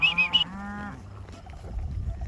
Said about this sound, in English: Sandhill cranes off in the distance making some noise.